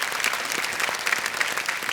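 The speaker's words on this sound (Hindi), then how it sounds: "एक बार जोरदार तालियां श्रुति के लिए" Studio audience on a quiz show applauds a contestant, a software engineer from Kolkata, with steady, even clapping from a crowd that runs evenly through the whole short stretch.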